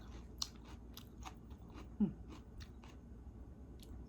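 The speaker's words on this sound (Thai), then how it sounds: "ผักสลัดกรอบดีดิ" Crisp salad lettuce eaten with shabu-style pork belly salad is bitten and chewed close to the microphone, giving a series of quiet, irregular crunches and wet chewing sounds with one sharper bite midway.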